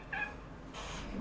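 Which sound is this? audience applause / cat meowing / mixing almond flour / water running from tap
cat meowing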